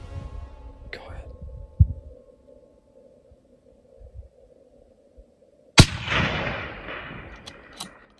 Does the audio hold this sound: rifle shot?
yes